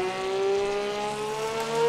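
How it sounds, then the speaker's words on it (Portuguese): A Porsche race car engine screams at high revs, a steady whining drone with rising pitch, heard from outside the car in Le Mans Ultimate. "Vamos ouvir aqui o Porsche por fora."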